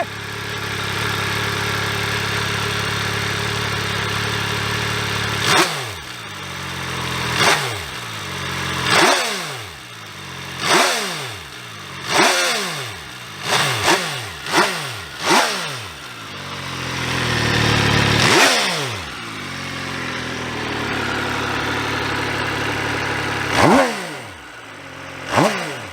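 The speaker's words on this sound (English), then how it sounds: "Time for the exhaust note. Let us see how this Italian sounds." Italian motorcycle engine idling steadily, then exhaust revved again and again in sharp bursts, each rising and falling quickly, with a longer rev near the middle.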